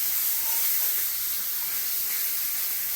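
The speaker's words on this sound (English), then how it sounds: "sear until I create a nice crust on the bottom" Steak laid flat in a hot pan to sear, giving a steady, loud, even sizzling hiss that fills the whole moment without letting up, with no talking over it.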